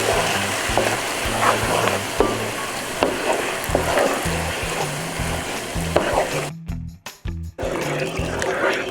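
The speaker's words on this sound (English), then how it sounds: "our broth little by little as I'm stirring" Beef broth stirred little by little into a beef stroganoff pan, giving a steady sizzling simmer with scraping stir strokes and a brief dip in the middle.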